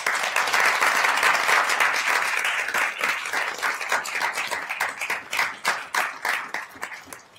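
A university board meeting audience gives a round of applause, dense and steady at first, then thinning into more distinct individual claps toward the end, with no voices over it.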